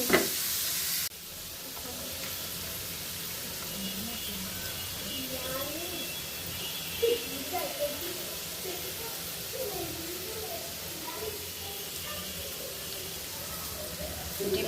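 Eggs frying in a pan with a steady, moderate sizzle, cooked alongside other dishes in a home kitchen, with stirring and faint scraping throughout and some clatter near the middle; a few voices talk quietly in the background.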